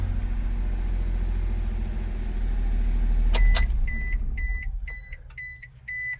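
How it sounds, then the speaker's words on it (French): A fuel-injected engine in a 2007 Suzuki Carry 4x4 mini truck idles with a steady low rumble, then a few short electronic beeps chime over it near the end. "le moteur injection, c'est vraiment agréable, ça démarre n'importe quand"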